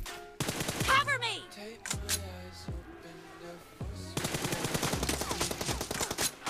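Gunfire in a first-person 1v1 team deathmatch video game: loud bursts of automatic fire and single shots, with short pauses between exchanges and a dense, sustained volley toward the end.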